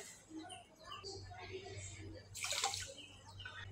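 A short splash of water pours into a pan of sugar, close and soft, with quiet background noise before and after.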